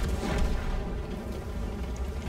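A World of Tanks battle with a dull, rumbling low boom from a tank gun or artillery, heard as a sustained heavy roar rather than a sharp crack, moderately loud with no talking.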